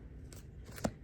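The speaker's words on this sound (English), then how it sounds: "They want me to keep shuffling." Tarot cards are shuffled in a quick, soft riffle with a light snap near the end, close and quiet.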